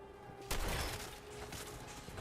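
Gunfire in the video game Fallout 4: a sudden loud burst of shots erupts about a quarter of the way in, then a dense, ongoing barrage of fire continues to the end.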